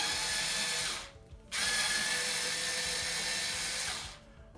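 A power driver with a screwdriver adapter and stacked bits drives a bolt during a WiiOaster build, a loud close whirring buzz that stops briefly and resumes for several more seconds before cutting off, with no talking.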